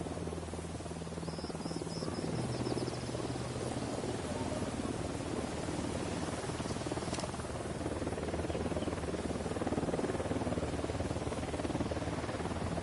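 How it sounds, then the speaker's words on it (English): A video game helicopter flies low overhead, its rotor making a steady droning buzz that continues throughout. "Unidad chopper, stay low."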